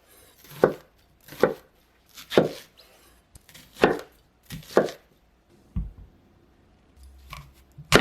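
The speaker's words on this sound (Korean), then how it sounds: "양파는 4등분 했어요." Knife quarters an onion on a cutting board, six or seven crisp, evenly spaced strokes close up, followed by a soft clunk and a scrape.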